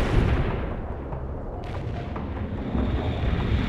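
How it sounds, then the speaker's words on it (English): Mortar fire in the video game World in Conflict, a dense, continuous low rumble of blasts and booms with no clear gaps between impacts. "Firing mortars and target coordinates"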